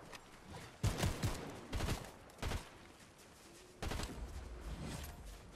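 Gunfire crackles in a Fortnite match as several separate bursts of rapid shots hit in short clusters, fairly close and sharp, with quieter gaps between them.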